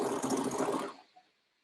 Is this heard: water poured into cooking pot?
no